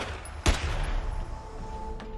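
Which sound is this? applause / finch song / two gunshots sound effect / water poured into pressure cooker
two gunshots sound effect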